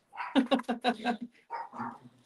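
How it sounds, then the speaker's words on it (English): Small fancy dogs barking in quick bursts indoors, a rapid string of sharp yaps followed by a couple of softer barks and whines, close and fairly loud. "They're also barking again."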